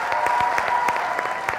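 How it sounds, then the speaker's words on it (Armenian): Loud applause from a studio audience in a sports talk show, dense rapid clapping that holds steady throughout. "Բարձր ծափեր"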